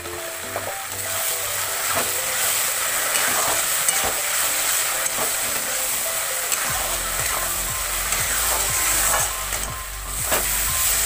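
A spice masala for rohu fish kalia fries in a pan as roasted cumin powder is added and stirred: a loud, steady sizzle with repeated scraping stirs, close up, with no voices.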